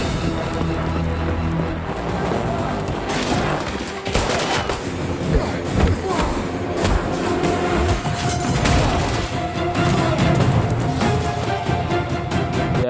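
Gunfight effects from the 2022 action film Blackout, dense bursts of gunfire, automatic volleys and booming impacts crashing continuously for the full stretch, loud and close with a dramatic score running underneath.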